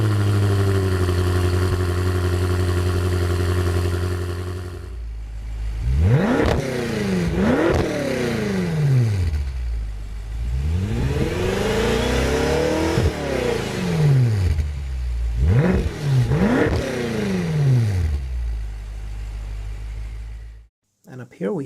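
A BMW M5 F10 engine, voiced through the car's active sound design, drones loudly, then rises and falls through several sharp, close revs before cutting off abruptly.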